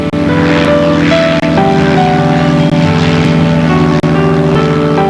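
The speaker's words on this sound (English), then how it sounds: "At about 11 a.m., the single-engine airplane takes off." Single-engine airplane taking off, a loud steady propeller engine drone holding close and constant throughout, with no voices.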